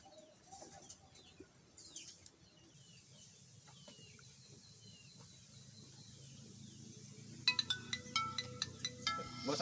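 A mobile phone ringtone for an incoming call, melodic repeated tones entering near the end over a bed of bird and pigeon-like outdoor ambience in a Sundanese comedy short film scene.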